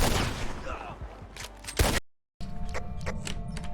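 Gunshots in the RedM roleplay video game: a burst of sharp shots over busy noise in the first two seconds, then a brief silence before more scattered cracks ring out against a steady background hum.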